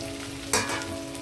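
Green chillies, curry leaves and coriander dropped into hot oil, a sudden loud crackling burst that settles into a steady frying hiss.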